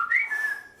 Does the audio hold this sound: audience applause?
no